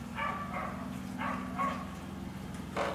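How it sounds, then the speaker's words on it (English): A neighbor's dog barks in several short bursts, moderately distant, over a steady low mechanical hum, with no talking. "the neighbor's dog has to go like crazy barking right now"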